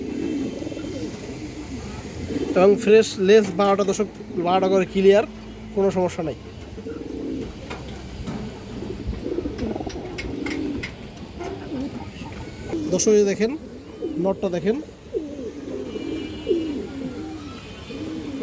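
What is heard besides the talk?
pigeons cooing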